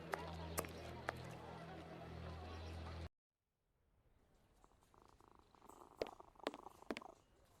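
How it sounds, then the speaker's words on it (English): A cat purrs in the Sherlock Holmes vs Jack the Ripper video game: a low, steady purr for about three seconds that cuts off abruptly, then quiet ambient game sounds with a few sharp clicks. "Almost sounds like you can hear the cat purring."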